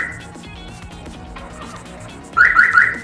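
Answer-back chime fitted to a Nissan Silvia, sounding on lock and unlock: a loud three-note electronic chirp sequence in quick succession near the end, following quieter low background.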